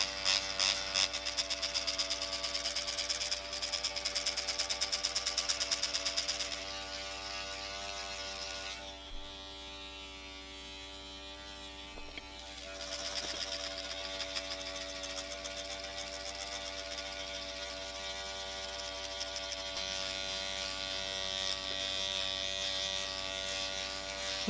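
A Dr. Pen M8 microneedling pen buzzes steadily as it moves over facial skin, a close, fine electric whine with a rattling mechanical texture that briefly drops in level midway before resuming.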